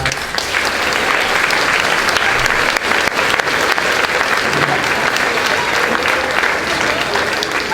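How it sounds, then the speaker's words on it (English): Loud, sustained applause from a large audience at a fifth grade send-off ceremony for the students, a thick unbroken wash of clapping with no voices over it. "let's give them another round of applause."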